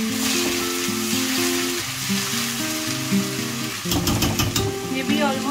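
Veg and chicken sizzler food cooking on high flame, a steady loud frying sizzle running throughout, with faint clinks and stirring near the end.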